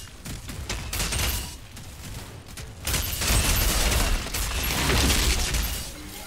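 Sustained automatic assault rifle gunfire in the Outriders shooter game, loud and continuous bursts with a brief lull before heavier firing resumes, layered with mechanical clatter and impacts.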